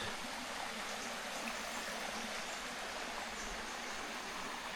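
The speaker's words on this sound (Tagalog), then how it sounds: "Ito yung ilog guys." A river rushes steadily, a constant broad wash of flowing water with no breaks, heard from nearby.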